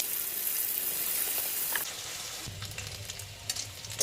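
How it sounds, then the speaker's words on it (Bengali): Potato pieces seasoned with salt and turmeric fry in a pan, a loud continuous sizzle that drops to a softer crackle with occasional stirring scrapes partway through. "লাল লাল করে আলুগুলোকে ভেজে নেব।"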